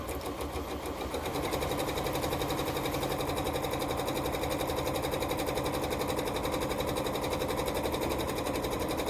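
A sewing machine stitching fabric strips in straight lines, a fast, even, continuous needle rattle running close and steady throughout with no talk.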